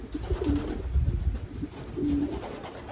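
Imported racing pigeon cooing close by, a few soft low throaty coos over a rumbling background of loft noise.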